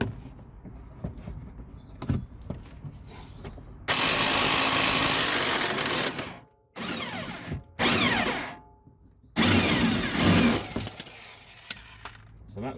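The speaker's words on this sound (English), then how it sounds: "I'm going to hit it with the impact gun" An impact gun undoing a front lower control arm nut on a Mazda MX5 NC Mk3, loud rattling bursts in several separate goes with short pauses between, close by, after quieter workshop sounds.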